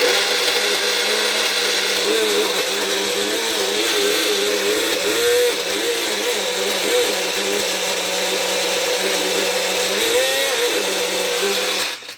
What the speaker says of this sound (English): I'm just gonna grind up my ginger pretty fast